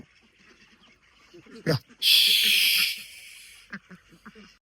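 Chinese ducks on a farm give a couple of short quacks and calls near the middle, alongside a loud hissing burst and people talking.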